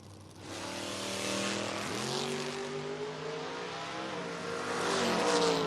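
Drag racing cars, a Camaro and a Vega, launching at a footbrake event: loud engines rev and climb through rising gear pitch, roaring steadily with a second surge near the end.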